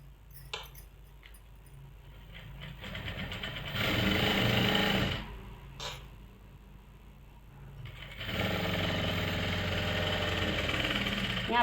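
A sewing machine stitches silk palazzo panels (kalis) together with a seam set one presser-foot width in, running in two steady mechanical bursts separated by quieter pauses.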